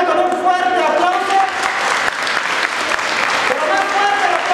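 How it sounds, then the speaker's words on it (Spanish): An audience at a community event on violence against women claps loudly to welcome singer Yaneli García, continuous close applause with music or voices blending in underneath. "Vamos a recibirla con un fuerte aplauso."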